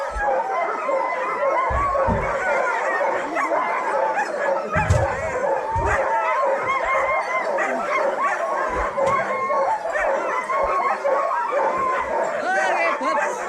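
Sled dogs in Juneau, Alaska bark, yip and whine together in a loud, constant, excited chorus close by, with sharper individual barks standing out throughout.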